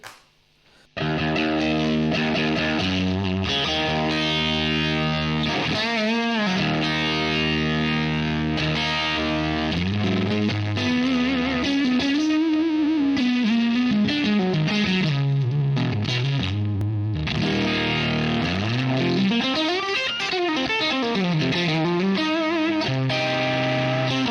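Electric guitar through thick fuzz and a Sabbadius Mr. White Special pedal plays sustained notes and bending melodic lines, saturated and buzzy, alone without any voices.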